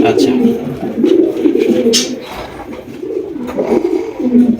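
Pigeons offered for sale coo in repeated low, throaty bursts close by, with a near-continuous rolling murmur and faint flutters.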